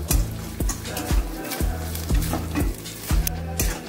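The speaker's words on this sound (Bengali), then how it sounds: "এবার নারকেলটা বেশ লাল লাল করে ভাজবো" Grated coconut frying in ghee with garlic in a pan, a steady close sizzle broken by repeated scraping stirs of a spoon against the pan, no voices.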